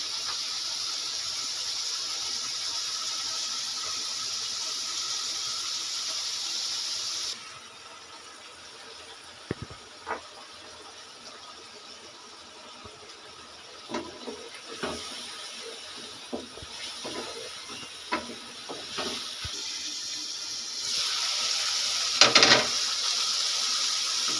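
Eggs frying in a pan of spice masala for egg spinach curry, a steady soft sizzle and hiss throughout with a few brief clicks and scrapes of stirring.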